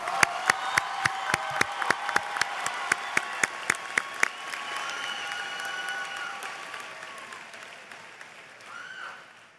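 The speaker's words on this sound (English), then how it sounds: "Please join me now in giving them a round of applause." Commencement audience for Springfield Technical Community College's class of 2014 applauds the graduates' supporters: sharp rhythmic claps at first, swelling into a broad wash of applause that fades out.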